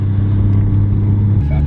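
Nissan Skyline drift car at a Formula Drift setup day in St. Louis, with a deep, loud engine drone held steady before the pitch shifts near the end, close by and continuous.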